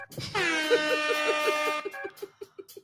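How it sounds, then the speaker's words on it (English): A loud air horn sounds close by in one long sustained blast, followed by a rapid string of short honks as it fades out. "I was hitting the air horn over here."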